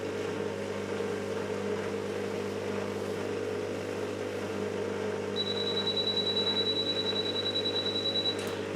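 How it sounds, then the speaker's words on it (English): A dishwasher's water container alarm sounds as a steady high electronic beep tone over the low hum and wash noise of the machine running, starting partway through and holding until near the end. "I think I accidentally triggered the water container alarm."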